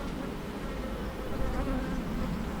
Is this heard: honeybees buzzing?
yes